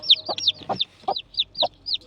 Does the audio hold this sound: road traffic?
no